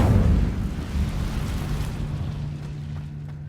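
Incendio fire spell cast in Hogwarts Legacy, a loud whooshing fiery burst that starts at full strength and slowly fades into a low rumbling roar.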